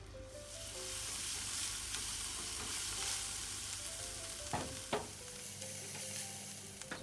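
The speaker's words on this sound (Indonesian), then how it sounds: "Masukkan bawang putih bawang merah. Kemudian tumis sampai benar-benar matang." Garlic and shallots sauté in hot oil, a steady close sizzle with a couple of sharp spatula scrapes and taps against the pan, music playing faintly underneath.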